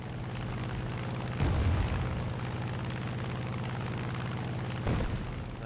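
Two deep booming bomb blasts from a Fiat BR.20 bomber in War Thunder, a few seconds apart, burst over a steady low rumble of game background noise.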